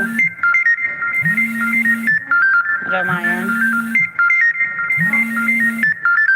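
A phone ringtone repeats a looping melodic phrase, loud and close, about three cycles, with a voice speaking or singing along in places.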